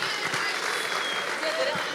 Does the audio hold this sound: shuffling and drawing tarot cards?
no